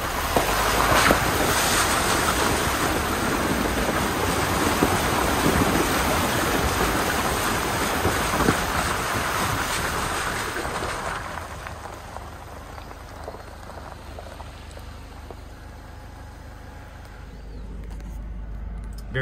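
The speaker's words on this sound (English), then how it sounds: "we're coming up on a stream crossing" Water flows and rushes at a stream crossing, a broad continuous wash of noise heard up close that gradually softens toward the end, with no voices.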